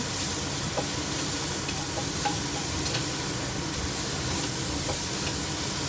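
Continuous sizzling of shrimp paste stir-frying in a hot pan, with occasional scraping clicks of stirring, close and steady.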